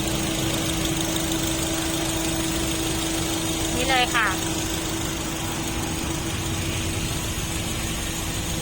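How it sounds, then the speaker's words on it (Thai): A 2013 Mazda 1.5 Sport car engine idles with a steady, even mechanical hum and faint vibration, while someone speaks briefly over it. "เดินเครื่องปกตินะคะ"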